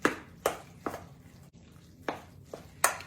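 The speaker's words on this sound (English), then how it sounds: "we're going to mix our ingredients here, stir the eggs in" A spoon stirs eggs into a Swedish meatball mixture in a bowl, giving faint, sharp knocks at a steady rhythm of about two per second, each one brief and crisp.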